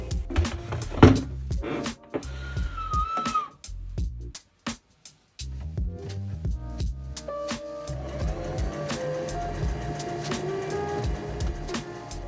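A sewing machine stitches elastic onto a tube top, whirring in loud close bursts that stop and start, with a brief silent pause midway before a longer steady run of stitching.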